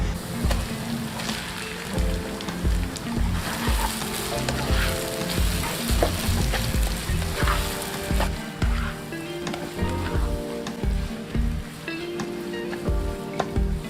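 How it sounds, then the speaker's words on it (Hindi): Half a kilo of onions fries in a pan for spicy tawa keema: a loud, dense, continuous sizzle close by, with regular stirring knocks and scrapes throughout and no voices. "इन प्याज़ों को तब तक फ्राई करना है जब तक कि ये गोल्डन ब्राउन नहीं हो जाते"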